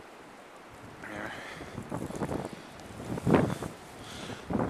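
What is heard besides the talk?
strong blizzard wind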